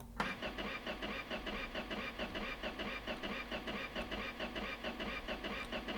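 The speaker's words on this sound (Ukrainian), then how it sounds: "Так, ну що, запускаємо наш двигун." A V8 engine in a Niva cranks without catching in the My Garage video game, giving a fast, even, rhythmic churning that runs unbroken for about six seconds with no voices.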